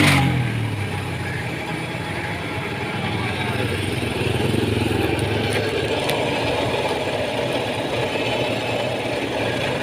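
A car engine in weak condition, with the radiator leaking water, starts and keeps running in a steady, rough idle close by, a continuous low rumble lasting throughout.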